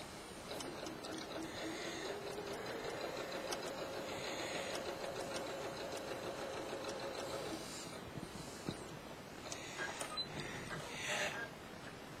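A sewing machine runs steadily with an open toe foot, top stitching a second row in a soft, continuous mechanical hum. Lighter clicks and rustles follow as the fabric is shifted.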